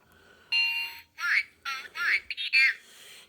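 A Xinjia talking watch sounds its top-of-the-hour time signal, a somewhat muffled electronic announcement in short tonal bursts, close and fairly loud, alone with no other talk.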